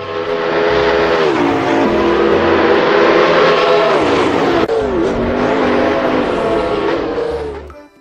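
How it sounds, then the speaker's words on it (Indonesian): A toy race car plays its loud electronic engine sound effect, a continuous whining, buzzing drone with repeating revs that carries on steadily before cutting off. "Mobil balap."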